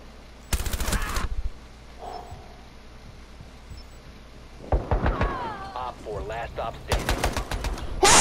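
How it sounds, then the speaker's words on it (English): Two sharp bursts of pistol fire from Rainbow Six Siege, one early and one near the end, stand out against a quieter background, with excited talking in between. "The pistol, baby! The pistol's too good!"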